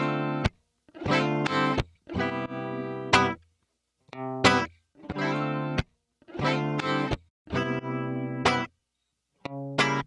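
Guitar phrases processed by a Dimension D dimension expander, short chopped chord stabs in a steady rhythmic pattern with brief silences between, wide and chorused, loud and close with no voices.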